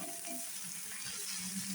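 Chili masala fries in a pan with oil, giving a steady close sizzle and crackle with faint stirring scrapes and no talk.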